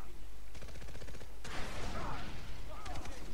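Gunfire in the co-op shooter game Far Cry 3: rapid automatic bursts, then a louder blast with rumbling debris, close and heavy.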